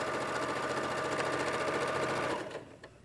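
A sewing machine stitches quilt pieces together in a steady, fast, continuous whir up close, then slows and stops near the end.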